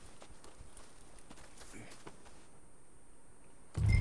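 A workhorse walks in Red Dead Redemption 2, its hooves making faint, steady clip-clops against quiet ambient game sound, with a loud sudden burst of noise right at the end.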